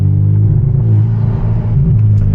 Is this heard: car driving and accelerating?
yes